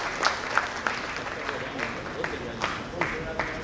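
Audience applause for poets at a mushaira during a literary festival in Bhopal, a steady wash of clapping with a few sharper bursts, moderately loud and with no speech over it.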